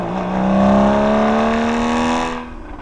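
A Porsche Boxster with the Porsche Sport Exhaust revs loud and close, a smooth rising engine drone with a strong steady tone that climbs gradually before cutting off at the end, with no talking.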